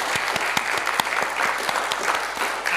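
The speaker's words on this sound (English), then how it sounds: "could we please welcome her with a round of applause" Audience applause welcoming a speaker to a talk on the Methodist Modern Art Collection, a loud, continuous clatter of many hands with a few sharper individual claps standing out near the front.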